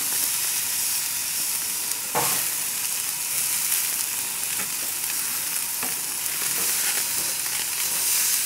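Yellow squash sizzles steadily on a grill, a continuous bright crackling hiss with a few sharper pops and scrapes, close and fairly loud, with no talking.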